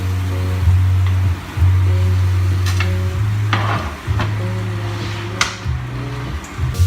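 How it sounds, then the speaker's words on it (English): Garlic and shallots sizzling in a pan, a steady close hiss broken by scraping stirs and occasional clinks of a utensil against the pan, with a low background music line underneath. "Put the garlic in first, and then the shallots"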